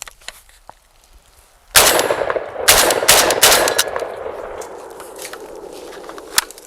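A well-worn JTS AK-12, still running after thousands of rounds, fires a short four-round magazine. Sharp, loud shots crack out in a quick string at close range, with metallic clatter and ringing echo trailing off afterward.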